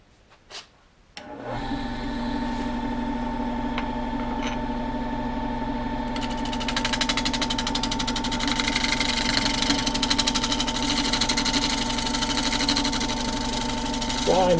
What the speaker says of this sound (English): This is called a scraper that I'm going to use to smooth out a little bit some of the ridges.